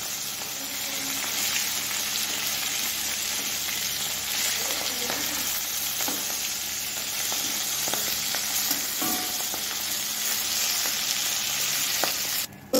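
Fish sizzles steadily in a small amount of oil, a dense continuous crackle close by that runs without a break, with occasional faint scrapes and no talking.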